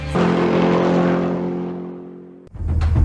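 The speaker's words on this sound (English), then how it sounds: "let's go on board for a hot lap with Nathan Hearn." A TA2 race car on a hot lap around a 3.12 km racetrack, its engine droning loud and steady at high revs before a brief lift near the end and a sharp return to full throttle.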